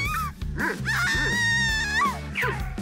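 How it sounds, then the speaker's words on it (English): A cartoon dog gives a run of high, whining yelps and yips over a steady bouncy music backing, close and fairly loud for about three seconds. "A dog! Help! I'm scared of dogs!"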